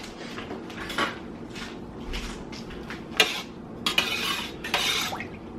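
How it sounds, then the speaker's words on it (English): A spoon stirs one-pot tomato basil linguine in a metal pot, giving repeated scraping clinks and knocks against the pot, some sharper and louder, with no talk. "let's stir it. Let's stir it."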